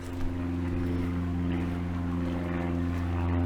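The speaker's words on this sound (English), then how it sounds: "Here we go, usual thing, an aeroplane above us." A propeller aeroplane passes overhead outdoors near a rural church in Lurgashall, a steady low droning engine hum with strong tonal bands holding at an even loudness throughout, with no talking.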